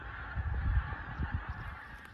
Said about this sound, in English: There's a flock of something, geese, migrating,